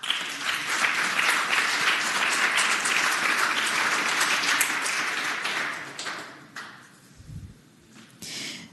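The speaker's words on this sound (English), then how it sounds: "let us give them the warm applause of the Senate." Applause fills a state Senate chamber, dense and sustained for about six seconds before thinning to scattered claps and fading, with a brief thump near the end.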